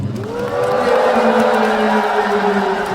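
A concert crowd at a finale encore cheers and whoops continuously, voices blending into a steady roar with rising shouts, loud and sustained throughout.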